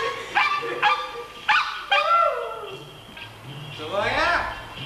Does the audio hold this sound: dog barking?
yes